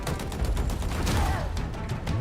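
Dense sci-fi gunfire and explosions from Halo Infinite, a loud continuous barrage of rapid shots and booms layered over one another with no pause, no voices.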